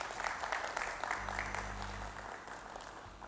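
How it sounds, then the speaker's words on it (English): Audience applause breaks out for a chief guest, Srimati Renuprava Nayak, at a renewable energy skills felicitation ceremony: steady, fairly loud clapping from a seated crowd that holds for a few seconds and then slowly thins. "Everyone, a huge round of applause"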